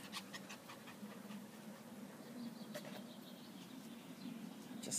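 Several dogs panting in a freshly mowed garden on a sunny day, rapid rhythmic breathing close by and continuous, with faint birdsong and wing flaps in the background.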